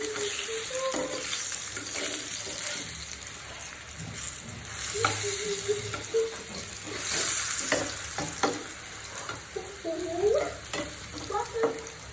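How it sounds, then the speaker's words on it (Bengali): Sweet pumpkin pieces fry beside eggplant in a pan of hot oil, a steady crackling sizzle with intermittent scrapes and knocks from stirring. "আমি বেগুনটা উঠিয়ে নিব আর মিষ্টি কুমড়াটা আর একটু ভেজে নিব"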